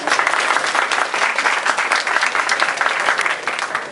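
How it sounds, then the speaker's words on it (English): Audience at a Nepalese and Indian Diwali celebration with American guests breaks into loud, sustained applause, a dense rattle of many hands clapping steadily from start to finish. "So please, a round of applause for my friends from Richmond."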